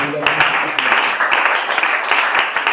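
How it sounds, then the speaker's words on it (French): A church congregation claps and cheers to acclaim the Lord, with lively clapping alongside voices and vocal sound throughout, close and full. "On acclame le Seigneur Christ"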